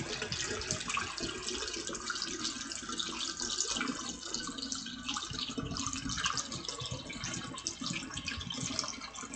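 A steady stream of liquid is poured into a container while making cider. It is a continuous, even splashing and gurgling with no voices.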